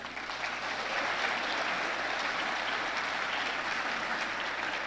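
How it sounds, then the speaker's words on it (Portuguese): A church congregation applauds steadily and densely for about five seconds, a full sustained wash of clapping from many hands at a moderate level with no talk over it. "aplauda Jesus"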